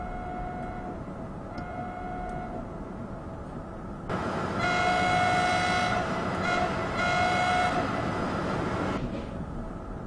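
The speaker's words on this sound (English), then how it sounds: "What does the horn sound like?" A BR261 Voith Gravita diesel locomotive in Train Simulator 2015 rumbles steadily as short faint horn toots give way to a long, loud two-tone horn blast lasting several seconds.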